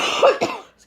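A single person's cough, sharp and close, in two quick bursts with a throat-clearing quality, followed by a short breath at the end.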